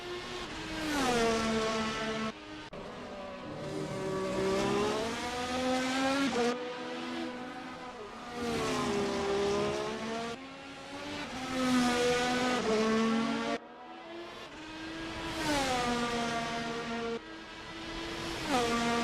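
Race cars lap the Portimao circuit in a racing video game, high-pitched engines rising and falling through gear changes, repeated upshifts and downshifts, loud and continuous with no talk.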